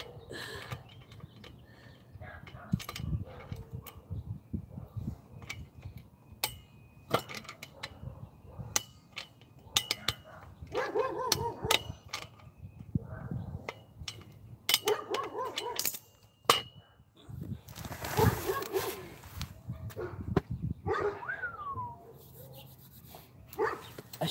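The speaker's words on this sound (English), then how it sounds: "That's my dog. That's Willie barking." A dog barks in sharp, scattered bursts somewhere near a van while a roof rack is being installed, mixed with mechanical creaks and clanks and occasional talking in the background.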